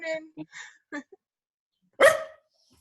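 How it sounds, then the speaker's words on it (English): A dog at home gives one loud, close bark near the end, after a stretch of people talking during an online meeting. "Oh, whose dog's that?"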